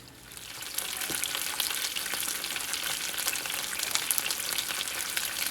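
Oxtails browning in a pan give off a steady, dense sizzle with crackling pops throughout, close and fairly loud, with occasional faint clinks and no voices.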